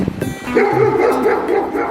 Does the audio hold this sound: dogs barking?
yes